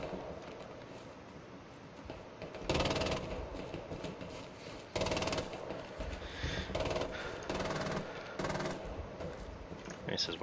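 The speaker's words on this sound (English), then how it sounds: "Wow, somebody's shooting at something there." Bursts of rifle and machine-gun fire in the WWII shooter game Hell Let Loose crack out in short volleys at middle distance, separated by quieter stretches of battlefield ambience.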